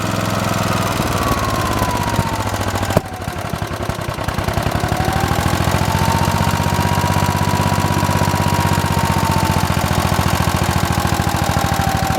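A small engine runs steadily and loudly up close with a rough, chugging drone, dipping briefly as the choke is adjusted before settling back to an even run.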